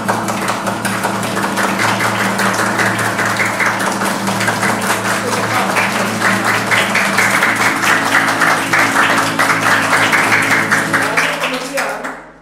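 A church congregation clapping hands in sustained, steady applause, loud and close for about twelve seconds before cutting off, with a voice and a low hum underneath.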